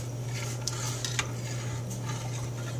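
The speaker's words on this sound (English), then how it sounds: "I'm going to stir it like you stir oatmeal, y'all. Just keep stirring it until it thickens up." A spoon stirs a flaxseed gel mixture in a pot, making faint clinks and scrapes against the metal at a few scattered moments over a low steady hum, with no one speaking.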